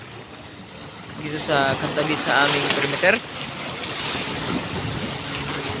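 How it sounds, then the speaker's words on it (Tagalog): Strong typhoon-driven waves surging along the Manila Bay shoreline during Typhoon Goring, a steady wash of surf and wind noise running throughout, with someone talking over it. "lumalakas pang ang alon guys, parang nagagalit"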